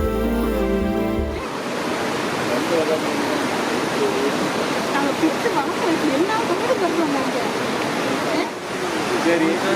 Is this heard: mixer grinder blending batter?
no